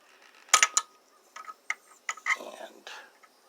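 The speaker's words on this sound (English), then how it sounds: "take you a sheet metal screw and start it into the hole, and then just simply thread it into the Welch plug" A sheet metal screw is driven by screwdriver into the Welch plug of a small engine carburetor, giving a few close, faint clicks and scraping turns in short bursts, with soft breathy sounds between them.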